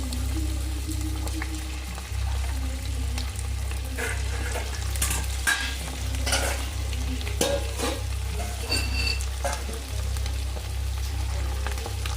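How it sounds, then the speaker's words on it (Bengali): Pakoras for chilli chicken fry in hot oil at a year-end picnic, a steady sizzling bed with scattered pops and crackles and occasional utensil scrapes, fairly loud and close throughout, with a low hum beneath and no talking. "এই যে পকোড়া ভাজা হবে"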